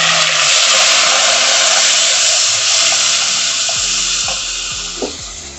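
Onion, ginger and garlic fry in a home-kitchen pan with a loud, steady sizzle that holds throughout, with a few light clinks near the end and no talking.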